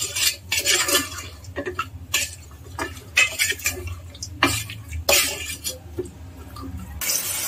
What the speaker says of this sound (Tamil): ஸோ எல்லாம் போட்டு இப்போ ஒரு வாட்டி மிக்ஸ் பண்ணி எடுத்துக்கிறேன்